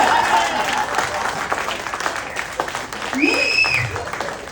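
A crowd at a Tamil-language talk breaks into clapping that swells and fades unevenly, with a speaker's voice cutting in over the applause now and then.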